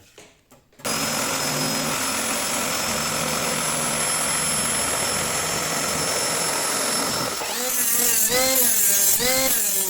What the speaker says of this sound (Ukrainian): Є ось в мене шабельна пила, і зараз я нею буду працювати.